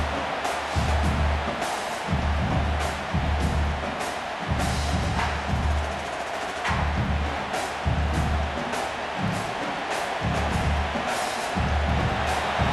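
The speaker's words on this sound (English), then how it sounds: "listen to this crowd noise. This stadium is vibrating." A dense stadium crowd roars at an Oklahoma Sooners versus Missouri college football game, a constant broad din punctuated by rhythmic deep thumps, as if from stomping or chanting, pulsing through the noise.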